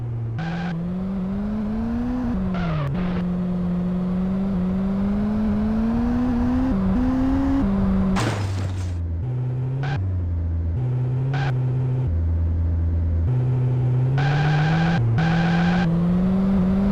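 A car engine in the PS1 driving game Auto Destruct hums and revs steadily, its pitch climbing and dropping with repeated gear changes, and a burst of crash or impact noise comes midway, with no talking.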